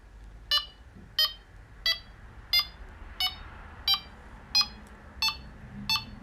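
A detector set to beep speed level 8 sounds nine sharp, high electronic beeps at a steady, fairly quick pace, each one clear and alone over a quiet background.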